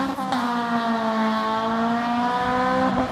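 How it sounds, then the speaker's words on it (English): A Lexus LFA supercar's V10 engine revs hard, a high, rising harmonic wail sustained near and loud for about three seconds with no talk over it. "it has the single best exhaust note of any car"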